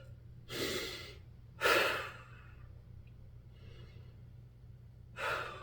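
Deep, slow breaths are drawn and released while a yoga stretch is held: three or four long airy inhales and exhales, close and clear, separated by quiet pauses with a low steady hum beneath.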